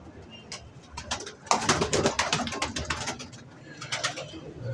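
Pigeons in a loft coo and flutter close by, soft repeated calls mixed with wing flaps and shuffling, with a brief louder burst of activity partway through and faint voices in the background.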